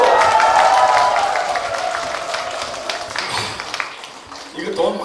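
An audience claps and cheers loudly at a live Korean singing event, the applause strongest at the start and fading to a softer patter while someone speaks over it.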